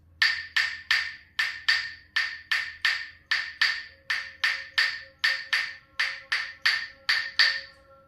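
A pair of claves plays an Afro-Cuban 6/8 3-2 clave pattern, sharp bright wooden clicks in a steady lilting triple-feel cycle, close up and alone.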